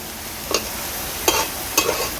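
Tomato paste goes into a spice paste frying in a pan for a catla fish kalia. Three sharp clinks of a spoon against the pan cut through a low, steady sizzle.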